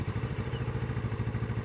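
A 2015 Kawasaki Ninja 650 motorcycle with a stock exhaust idles steadily, its low, even engine pulse loud and close with no other sounds.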